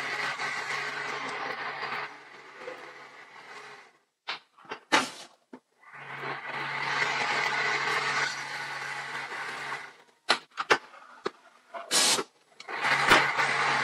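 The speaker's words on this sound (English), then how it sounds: "for the laser cutting, it can be stitching and cutting in one process" An MS-90A large-area pattern sewing machine stitching and laser cutting in one process, giving steady broadband mechanical whirring in long stretches broken by short pauses and sharp clicks.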